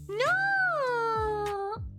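A kitten gives a long, clear, drawn-out meow close to the microphone, bending in pitch, with a few faint thumps around it.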